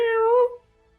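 A single clear meow from a snow-white cat, close and loud, a short tonal cry with rich harmonics that slides slightly and fades out after about half a second, then near silence.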